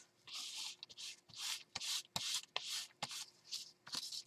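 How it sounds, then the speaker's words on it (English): An ink pad is scrubbed back and forth over a small mixed-media paper journal, making close, dry rubbing strokes in a quick uneven rhythm of about a dozen passes. "I'm just going to rub this ink pad"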